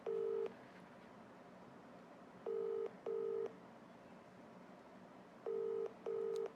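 Telephone keypad tones as a call is dialed, five short beeps in two clusters over a faint steady background hiss, with no talking.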